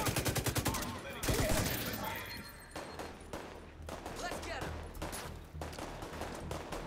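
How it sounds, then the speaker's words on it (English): Automatic gunfire in The Division 2 rattles in rapid, loud bursts, with a steady barrage of shots continuing through the clip and a voice speaking over the shooting. "Don't know who's shooting at me"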